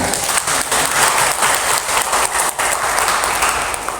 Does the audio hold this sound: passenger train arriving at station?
no